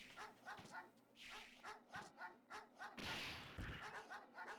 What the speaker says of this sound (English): they're not real dogs, and I kind of don't like how they sound.